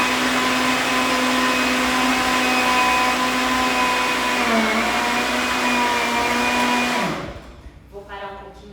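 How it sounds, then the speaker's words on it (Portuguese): A blender whirs loudly and steadily as it mixes a thick yogurt cake batter, its motor pitch dipping briefly before it shuts off and winds down. "vamos para o liquidificador."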